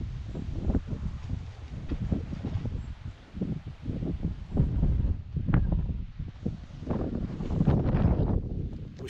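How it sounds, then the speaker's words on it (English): Gusty wind buffets the microphone outdoors on the roof of a narrowboat being fitted out, a continuous loud low rumble rising and falling in irregular surges, with no talking. "As you can hear, it's a little bit windy."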